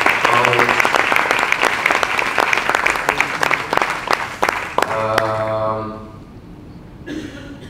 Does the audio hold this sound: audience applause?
yes